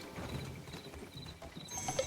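A horse's hooves clip-clop in a video game, a run of light, even hoofbeats close by over a soft background bed.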